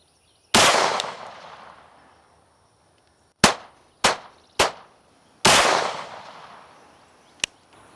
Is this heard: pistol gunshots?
yes